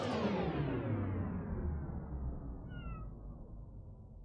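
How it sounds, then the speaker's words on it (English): A cat meows once with a short, faint, high call partway through, over a steady low background hum. "I can hear your cat, Eric."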